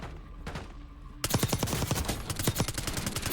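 Rapid gunfire from SMGs in Call of Duty: Warzone (Black Ops 6): a faint shot or two, then a loud burst of close automatic fire that stutters on in quick volleys.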